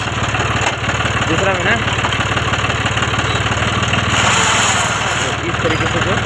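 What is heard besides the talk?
John Deere 5310 tractor gearbox struggling to engage second gear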